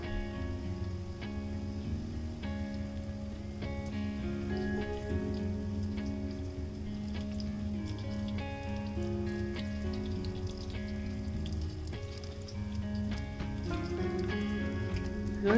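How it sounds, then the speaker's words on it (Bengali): Spiced liver rolls deep frying in hot oil until crispy and golden, a steady dense sizzle and crackle that holds continuously with tonal background hum, no talking. "ঘুরিয়ে ঘুরিয়ে সুন্দর করে চারো সাইড মুচমুচে করে ভেজে নিতে হবে।"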